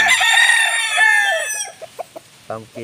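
A pet rooster of the pumpkin hatch line crows loudly and close, one long drawn-out call with a falling tail, followed by a few short clucks, and no talk.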